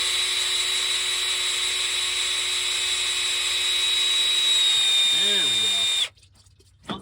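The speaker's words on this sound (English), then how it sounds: "You'll know it's working when the drill bogs down." A power drill spins an oil pump priming tool on a 1970 Plymouth Roadrunner 440 engine, a loud steady whine close by that dips slightly near the end before stopping abruptly, with a voice speaking over it.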